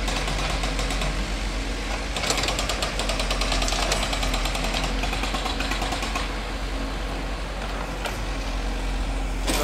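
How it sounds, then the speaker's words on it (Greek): Drilling rigs at work on the AEK stadium construction site give a continuous, loud mechanical hammering and engine rumble, with rapid percussive pulses running over a steady low drone. "δύο τα τρυπάνια"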